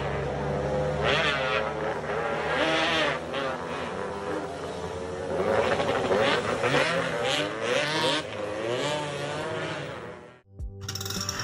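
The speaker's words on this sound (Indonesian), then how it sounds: "setiap ada RX King yang ngebut, pengendara di depan RX King pasti bakal minggir, karena takut sama suaranya yang sangat mengganggu tersebut." Loud Yamaha RX King motorcycle speeding past, its engine note revving up and down in repeated wavering sweeps before cutting off abruptly near the end.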